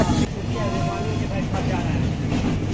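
Train wheels rumble steadily over the diamond railway crossing near Nagpur station, heard from aboard a Pune to Santragachi Humsafar Express, with a continuous low rolling roar and rattling throughout.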